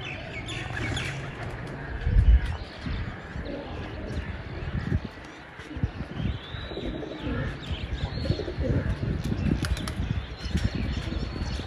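Pigeons taking flight with bursts of flapping wings, mixed with coos and chirps from the flock, under faint talk and outdoor background noise.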